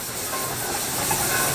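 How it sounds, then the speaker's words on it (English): Steam traction engine at a country steam fair, built new for an owner in Lincolnshire and worked until 1947, giving a steady continuous hiss of steam with a faint rail-like clatter, close and fairly loud throughout, with no talking. "The engine that's doing the pulling this time was a"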